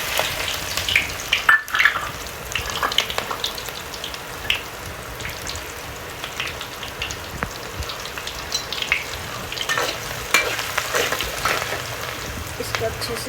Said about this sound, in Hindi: यहाँ पर मैं ऑनियन डाल रही हूँ इसके अंदर